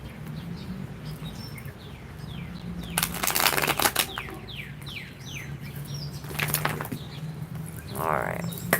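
A deck of tarot cards is shuffled in two or three short, crisp riffling bursts over a steady low hum, with faint chirps and quiet movement in the background.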